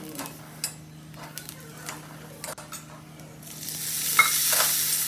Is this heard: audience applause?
no